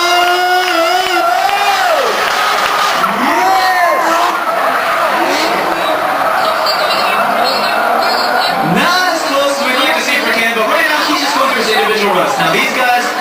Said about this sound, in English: You got Ken Nomura, you can hear him feathering the throttle trying to limit the wheel spin,